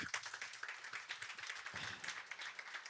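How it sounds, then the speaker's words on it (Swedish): Polite audience applause welcomes energy-policy panelists onto a stage at an Almedalen forum in Sweden, a steady patter of many hands clapping at moderate volume with no voices over it. "ge en artig applåd till Fredrik Olofsson"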